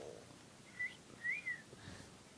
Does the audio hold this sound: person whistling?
yes